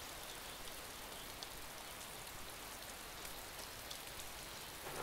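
Steady rain in the video game DayZ, a constant even hiss of falling drops with no pauses and no voices.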